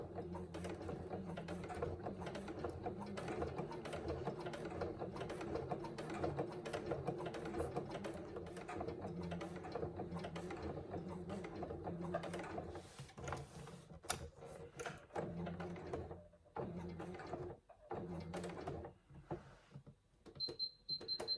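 A sewing machine runs steadily, stitching along the long edge of a Scarlett Hobo bag, a dense mechanical whirr with rapid ticking that holds for most of the stretch before breaking into shorter bursts near the end.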